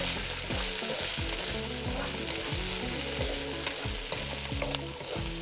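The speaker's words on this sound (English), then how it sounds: "Now I'll put in the cherry tomatoes and the garlic." Cherry tomatoes and garlic fry in a pan with a steady, close sizzle that holds throughout, while melodic background music runs underneath.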